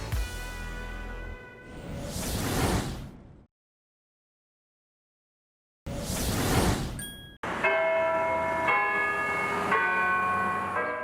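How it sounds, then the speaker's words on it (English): A church bell in a Santa Ynez Valley town rings at the top of the hour with bright, sustained tones, broken by brief whooshing bursts and a moment of silence before the ringing returns loudly. "The bell rings at the top of the hour"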